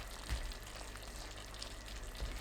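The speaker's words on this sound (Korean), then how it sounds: "3분 후 골고루 섞어주세요" Seasoned radish namul cooking in a pan, giving a soft continuous sizzle and crackle with a few low bumps as the vegetables are stirred.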